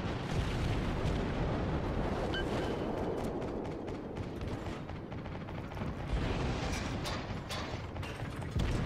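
Naval guns fire in the World of Warships game, heard as dense, rumbling booms and blasts that roll on continuously, with sharper cracks scattered through the low, loud roar and no talking.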